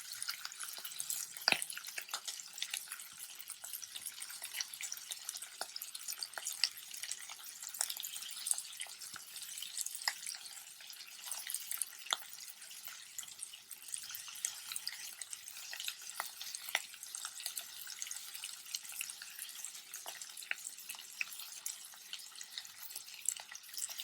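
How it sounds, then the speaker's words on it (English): Pork belly sizzles in a pan over low heat, a faint, steady crackle and hiss with scattered tiny pops running throughout, no voices. "So the pork belly has been fried for about 2 minutes on low fire."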